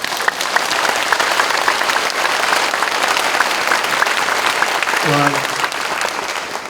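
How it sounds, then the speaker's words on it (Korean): A congregation claps at a Korean church dedication service, a loud, dense round of applause filling the room, with a brief spoken word near the end. "우리 박수 한번 드리도록 하겠습니다."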